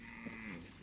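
A single cow lows softly in a grazing herd in Zambia, one drawn-out moo heard faintly at a distance with no other voices.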